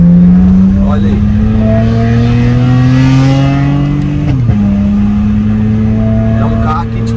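A BMW 335i with the N54 engine revs up hard nearby, its steady loud drone climbing in pitch, dropping briefly, then holding high again, with someone talking over it.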